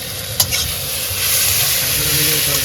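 Prawns fry in a hot pan and are stirred, giving a loud, close, steady sizzle with one sharp clack of a utensil near the start.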